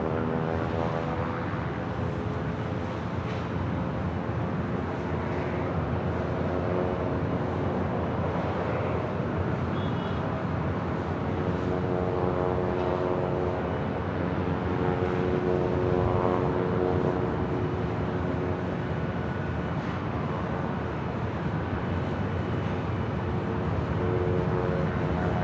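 Southwest Airlines Boeing 737-700 departing Los Angeles International Airport for Denver, a steady jet engine roar with tonal whine holding at moderate loudness throughout, heard alone without talk.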